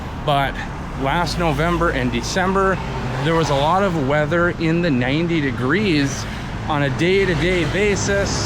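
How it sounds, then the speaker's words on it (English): Loud, steady road traffic on a Bangkok street rumbles continuously beneath a person talking close to the microphone throughout. "excuse the loud traffic. That is kind of an everyday in Bangkok."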